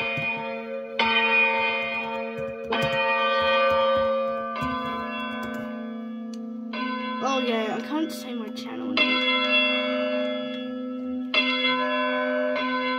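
Several church bells ring in turn at All Saints Maidstone on Boxing Day, each strike sustaining a bright metallic hum, while a person speaks briefly midway.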